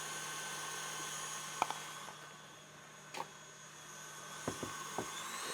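A stand mixer hums steadily, beating a Christmas cookie dough of butter, eggs and vanilla, with a constant whirring drone, a few sharp clicks and knocks from the bowl scattered through.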